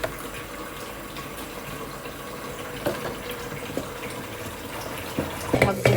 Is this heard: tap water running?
yes